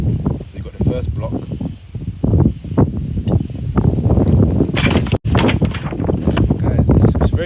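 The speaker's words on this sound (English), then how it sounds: "it's very windy here" Strong wind buffets the microphone outdoors on a street in Brixton, gusty rushing noise, while a person talks over it.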